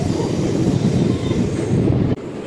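Continuous low rumble of a superfast express train rolling along the tracks from inside a carriage as it nears Gudur railway junction, steady and loud, ending with a brief clunk.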